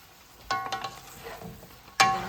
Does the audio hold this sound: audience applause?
no